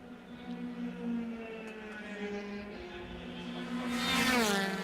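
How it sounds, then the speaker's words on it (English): A loud race car at Watkins Glen drones along the front straight with a steady engine tone, rising and sweeping in pitch toward the end as it passes nearby. "it's a pretty loud car going down the front straight in front of us"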